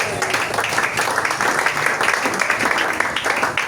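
A church congregation applauding in acclamation of Jesus, a continuous dense wash of clapping with voices mixed in, loud and steady for a few seconds.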